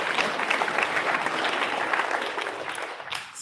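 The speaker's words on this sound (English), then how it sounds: "go ahead and give her a round of applause" Steady applause fills a school spring sports awards ceremony, with a crowd clapping loudly and evenly throughout and tapering slightly at the end.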